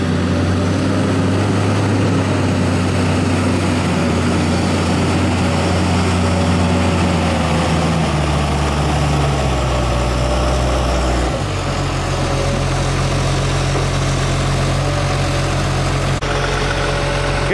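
A 2003 John Deere 648G III skidder with 6,800 hours runs steadily at a loud, close idle. Its low diesel drone holds throughout, with a slight change in pitch partway through and no talking.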